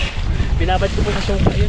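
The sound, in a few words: strong wind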